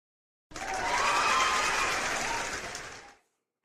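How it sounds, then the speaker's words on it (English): A short round of applause rises abruptly, holds steady for under three seconds, then fades out, moderately quiet, with no talking over it. "Can we get a round of applause?"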